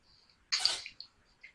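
A single sharp sneeze bursts out in a quiet room, loud and breathy, followed by a couple of faint trailing sounds.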